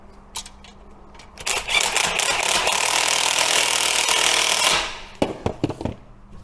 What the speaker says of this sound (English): I'm using the impact gun, but I'm not going to wang it in all the way